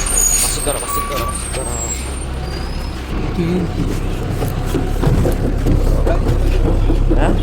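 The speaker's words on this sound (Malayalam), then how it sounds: "ബസ് എത്തിയിട്ടുണ്ട്" A bus pulls up at a stop: steady low engine rumble with a hiss of air brakes near the end, over busy roadside traffic noise and indistinct voices.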